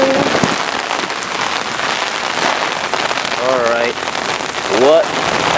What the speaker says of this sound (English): Look, here come the wind again, people. Wind and rain.